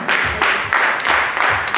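A church congregation at a Friday night vigil claps hands in steady, rhythmic unison, roughly two claps per second, loud and close with no talk over it.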